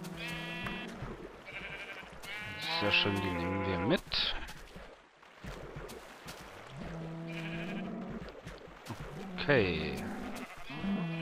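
Minecraft sheep bleat in repeated wavering calls, loud and close, in bursts of several bleats, with someone speaking briefly between them.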